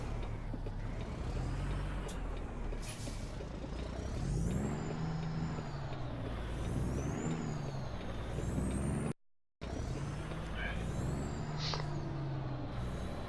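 A semi truck pulls slowly into a yard, its engine rumbling and shifting pitch up close, with a sharp air brake hiss near the start and another burst later, and no talking.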